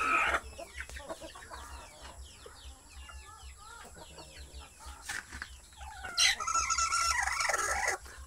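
A native hen brooding her eggs gives low, grumbling clucks close by, with brief sharper calls near the end and farmyard bird sounds in the background.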